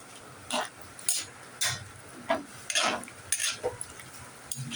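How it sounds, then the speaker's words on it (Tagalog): Pancit noodles and vegetables are stirred in a pan, with a utensil scraping and swishing through them in about eight uneven, moderately loud strokes over a faint background sizzle. "So yun, haluin natin ang haluin para maluto sila."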